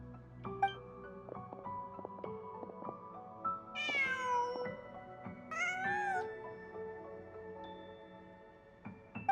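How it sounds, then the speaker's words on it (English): A cat in the video game Genshin Impact gives two drawn-out meows over soft background game music, each rising and falling in pitch, with no voices. "Just a cat."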